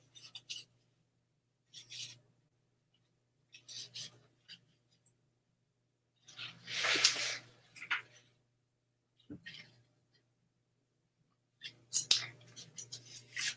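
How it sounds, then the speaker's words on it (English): Scissors snip through paper, cutting out slips with names written on them, in short separate bursts of close crisp cutting with quiet pauses between, a voice murmuring briefly. "I actually prepared this time and wrote out people's names first. I just need to cut them out now."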